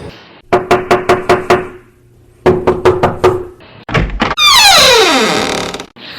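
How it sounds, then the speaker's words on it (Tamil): Heavy knocking on a door, delivered in two fast bursts of about six loud, close thuds each, followed by a slam and a long sweeping noise, with no talk over it. "யாரோ பலமாக கதவு தட்டுற சத்தம் கேட்டது"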